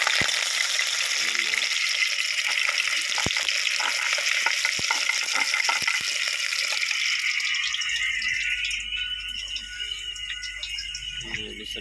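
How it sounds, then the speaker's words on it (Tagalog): Garlic, onion and ginger sautéing in a hot pan, a dense continuous sizzle with occasional utensil clicks and rattles, close and steady, tapering off somewhat toward the end. "Una, nagisa ka og ahos, sibuyas og luya."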